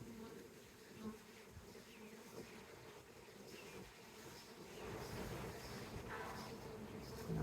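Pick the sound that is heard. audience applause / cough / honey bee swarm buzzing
honey bee swarm buzzing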